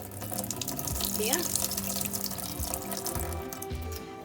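Water is poured off blueberries into a sink, splashing and trickling steadily at close range, with a brief spoken word near the end.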